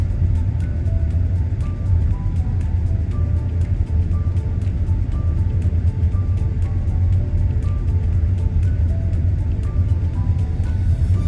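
A Tesla car on Full Self-Driving 12.4.3 rolling over a freshly resurfaced, rocky road, a loud constant low rumble of tires and cabin noise with faint regular ticks throughout.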